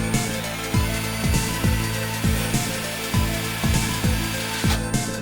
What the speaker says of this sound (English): I just drilled 4 1/4-inch holes approximately at the corners of this.